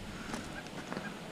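Geese honk a few times in the distance outdoors, two faint calls standing out over steady background noise.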